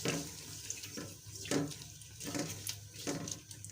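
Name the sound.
water being poured into a pot of frying onions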